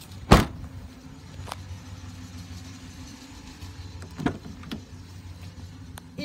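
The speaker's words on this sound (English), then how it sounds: "Manual hatch." The manual rear hatch of a 2006 Pontiac Torrent slams shut with one sharp, loud thud, followed by quieter knocks and clunks of the latch over a low background hum.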